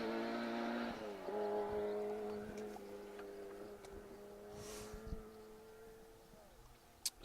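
Grant Shand and Roderick Evans's Ford Escort rally car, number 83, driving a forest stage at the Down Rally, its engine droning steadily with shifting pitch and gear changes at moderate distance, no talking.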